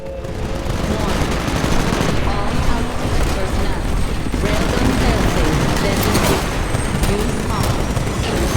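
Heavy cannon fire aboard a ship in the Titanfall video game campaign, rapid repeated booming blasts with machine-gun-like bursts over several seconds, loud and dense, with battle clatter and game voices mixed in.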